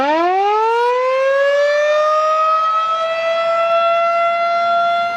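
A civil defense siren sounding as a tornado warning, its wail rising in pitch then holding a steady, loud, piercing tone for several seconds with no one talking.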